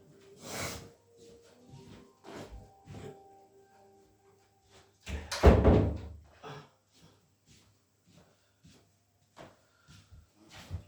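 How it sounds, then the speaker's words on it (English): A kitchen door thumps shut once, fairly close, amid scattered clatter and quiet household handling sounds. "I need to go close the kitchen door"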